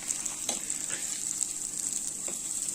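Chili, coconut, chickpeas and a piece of ginger roast in a little oil, giving a steady, hissing sizzle with a few soft stirring scrapes, close and even.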